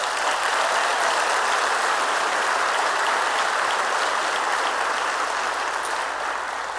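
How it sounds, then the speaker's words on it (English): A school audience at a teacher appreciation event gives pre-K staff sustained, even applause, a dense wash of clapping at steady volume with no voices over it. "Please thank them with your applause."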